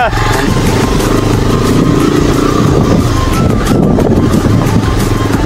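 A motorcycle engine runs loudly and steadily throughout, close by, with a rough continuous drone and no clear gaps, ridden on a local road near Ramche in the Gumdi Bazar area.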